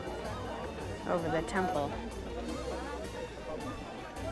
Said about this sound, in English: I just want you to see this crowd of people here to take a picture of the Sphinx